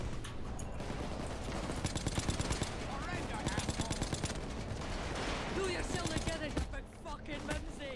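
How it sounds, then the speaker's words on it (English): Gunfire in the video game Payday 2 with sniper shots: repeated rapid shots and bursts under constant loud game noise and talking voices, with shot clusters recurring through the stretch. "Sniper's shooting me while I'm already down"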